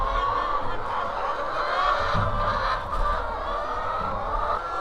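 Chickens cluck and murmur on a farm in a steady, busy flock chorus that fills the whole stretch, with a faint voice or two mixed in.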